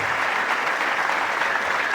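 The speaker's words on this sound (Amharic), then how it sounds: "አጨብጭቡለት ለጌታ" A church congregation applauds together during a sermon, a brief, dense and steady roar of clapping filling the space without pause.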